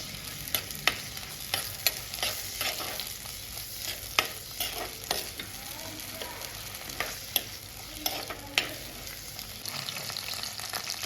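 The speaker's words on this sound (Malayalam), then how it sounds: "അതുപോലെ തക്കാളിപ്പഴവും ഇട്ടിരിക്കുകയാണ് എന്നിട്ട് ഇതൊന്ന് വയറ്റണം" Onion and tomato sautéing in a pan for a chilli fish curry, with a steady low sizzle broken by frequent sharp clicks and scrapes of a spoon stirring against the metal, close and unaccompanied by talk.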